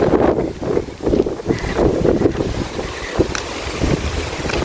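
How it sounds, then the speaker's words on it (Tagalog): Gusty wind rushes across the microphone in uneven bursts, with water lapping nearby, loud and continuous throughout. "Maganda yung hangin niya dito."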